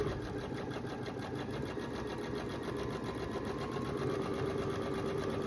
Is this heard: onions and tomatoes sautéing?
no